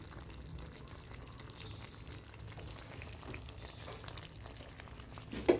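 Pumpkin chhokka sizzles softly in a pan as grated coconut is mixed in, a faint steady frying hiss with light stirring scrapes and a small clink near the end.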